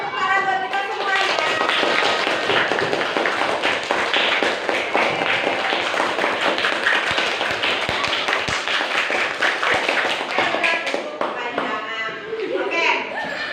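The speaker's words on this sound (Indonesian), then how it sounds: "boleh tepuk tangan buat kita semuanya." A classroom of students clapping hands together, a dense, sustained patter of claps that holds steady for over ten seconds before thinning out near the end.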